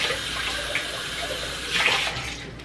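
A kitchen tap runs as something is rinsed out, a loud steady gush of water splashing into a sink, close and continuous with slight swells as the flow hits the item, no talking.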